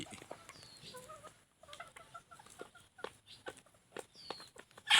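Free-range bantam chickens, including young hens starting to lay, clucking and calling close by on a farm, with scattered soft clucks and a few higher calls, and a sharp noise at the very end.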